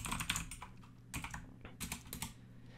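Typing on a computer keyboard, entering code into a file, heard as quick clusters of close key clicks in several bursts with short pauses between them.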